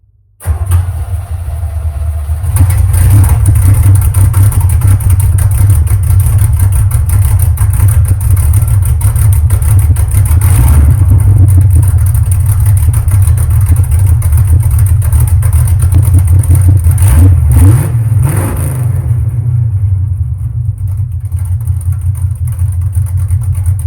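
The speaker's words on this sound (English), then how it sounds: "we all got to know what this thing sounds like straight piped" A loud truck engine with straight-piped exhaust starts and settles into a deep, rumbling idle, with a couple of brief revs near the end, up close and uninterrupted.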